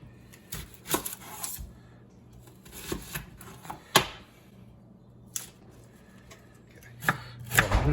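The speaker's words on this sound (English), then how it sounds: "we're going to cut up our onions and garlic for our cauliflower and pasta" Knife chopping onions and garlic on a cutting board for a cauliflower pasta, with scattered sharp near chops in irregular bursts, some louder strikes and a quicker flurry near the end.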